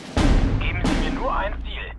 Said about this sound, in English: Ganze Batterie. Feuerschlag.